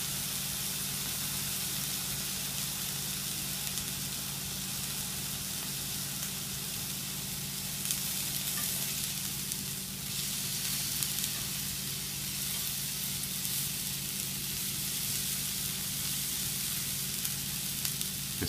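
Blewit mushrooms dry sautéing in a pan, a steady close sizzle and crackle with a hissy wash that holds evenly throughout, with faint occasional stirring.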